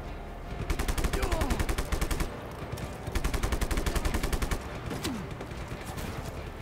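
Rapid automatic gunfire in the video game Just Cause 3 rattles in two long, loud bursts with a shorter volley between them, dense and close, with no one speaking.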